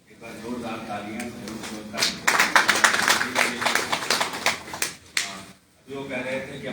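A book launch audience breaks into brisk, dense clapping that swells for a few seconds and then trails off into a brief pause, with a voice talking faintly beneath it.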